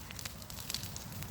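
Wood bonfire crackling and popping outdoors, with scattered sharp pops and snaps over a steady low roar of flames, heard fairly close.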